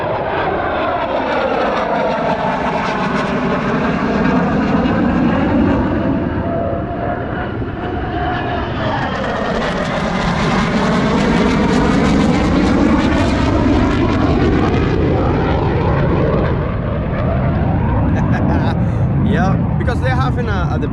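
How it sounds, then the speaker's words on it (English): Military aircraft pass overhead above Ocala National Forest, a loud sustained engine roar that swells, fades and swells again across about twenty seconds, heard continuously in the open air. "They are doing flying practices, you know."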